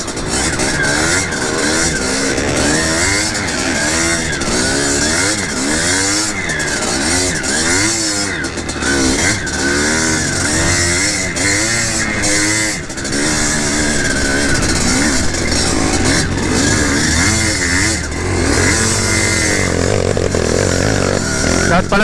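A trail motorcycle ridden in rain during a typhoon rides through repeated rising and falling engine revs, loud and close, with gear changes and continuous rough engine drone.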